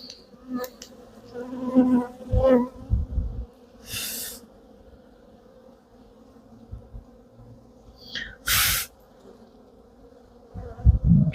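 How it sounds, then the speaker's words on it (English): Agitated honeybees swarm around a beekeeper's hands during a winter hive inspection, their buzzing rising in close, loud bursts over a quieter steady hum, with brief hissing puffs in between. "So the bees are all over my hands here. They're not happy with me."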